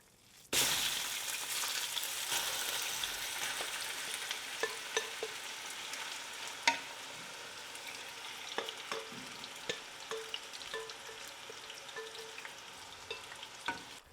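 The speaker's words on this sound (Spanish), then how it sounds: "Freímos a fuego alto hasta que cambie de color" Adobo-marinated pork frying in hot melted lard in a pot over high heat, a loud steady sizzle that starts abruptly after a brief quiet moment, with scattered pops and crackles throughout and no voices.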